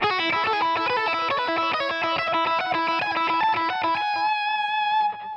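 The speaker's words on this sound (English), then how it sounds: "So that phrase up to tempo sounds like this." A distorted electric guitar lead phrase is played at full tempo, a quick burst of picked and pulled-off notes that settles onto a ringing held note with vibrato, loud and alone.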